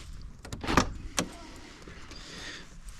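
The old starter motor of a 1982 Porsche 924 cranks in a few short whirring bursts, close and fairly quiet, followed by a softer steady hum.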